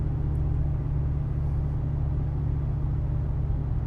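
A Jeep Cherokee XJ with an LS 6.0 V8 conversion climbing a steep hill gives a steady, close, low engine drone and rumble from inside the cabin, holding evenly without any downshift.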